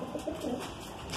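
A Madrasi pigeon gives a soft, close coo, a low throaty rolling call that swells and fades over about a second against a quiet background.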